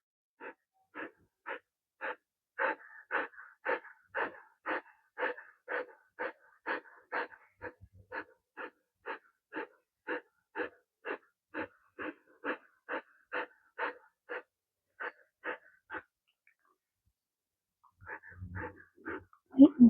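A dog named Freya breathes heavily in a fast, regular series of wheezy, raspy pants, close and fairly faint against silence, pausing briefly before a few last breaths.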